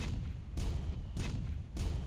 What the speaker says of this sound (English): Fires a cannon.